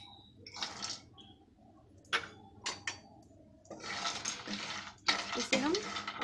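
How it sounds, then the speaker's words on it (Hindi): Dry fruits fry in hot ghee in a pan, stirred with a spoon: soft scraping and clinking strokes come in short bursts over a faint sizzle, close by and fairly quiet, with a voice faintly present. "हल्का थोड़ा ये ब्राउन होने तक हम इसे फ्राई करेंगे"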